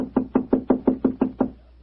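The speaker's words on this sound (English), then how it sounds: "I'll knock again." Eight sharp, evenly spaced knocks on a hotel room door, loud and close, then stillness.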